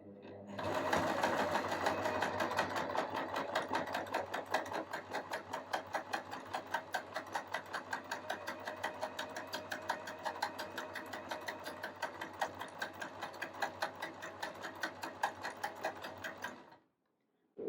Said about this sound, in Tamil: இப்போ வந்து மேலே தான் வந்து நம்மளுக்கு ஜிக்ஸாக்காக தச்சு போகும்.